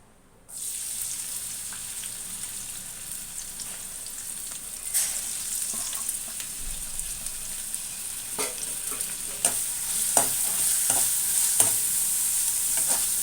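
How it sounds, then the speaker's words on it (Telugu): Onions, green chillies and curry leaves sizzle steadily in hot oil in a pan for a Telugu drumstick masala curry, a continuous bright frying hiss with occasional stirring scrapes and clicks growing slightly louder toward the end. "ఇప్పుడు ఇందులో ఉల్లిపాయలు, పచ్చిమిర్చి, కరివేపాకు వేసుకుందాము"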